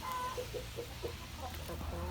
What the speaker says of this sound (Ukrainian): А Зараз йдемо подивимося, хто там голосно в нас кудакає